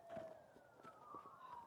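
A siren wails from a main highway, faint and distant, its tone sliding slowly up and down, with soft background noise around it.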